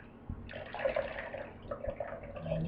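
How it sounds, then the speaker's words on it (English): Water draining out of soaked newspaper pulp, a soft close trickle and splashing with a few dull thuds, faint and uneven across a short moment. "And now I'm going to drain it."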